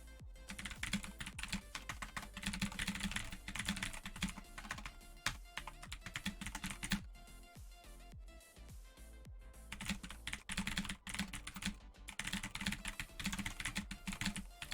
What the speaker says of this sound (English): I was typing something, but the note just gets deleted by what happened.